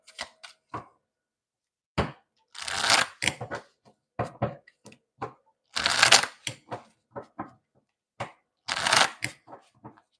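Tarot cards being shuffled by hand, with bursts of riffling and slapping that come in separated clusters and short pauses between them, heard up close with no talking.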